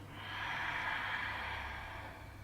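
A single slow, soft breath is drawn in and let out during a guided yoga exercise. It is quiet and airy, swelling and then fading over a couple of seconds, with no talking.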